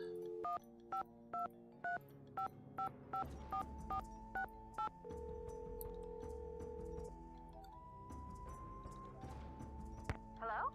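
A telephone is dialed in a Nancy Drew video game: a rapid series of about a dozen evenly spaced keypad tones, followed by a steady ringing tone, with faint background music throughout.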